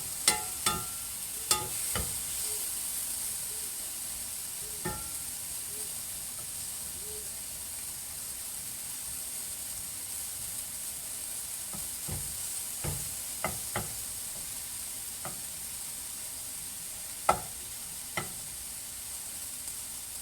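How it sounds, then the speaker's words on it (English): Tomato chunks sauté for ratatouille in a pan, giving a steady, soft sizzle and hiss with scattered faint clicks and pops throughout. "So let's just saute up these little tomato chunks"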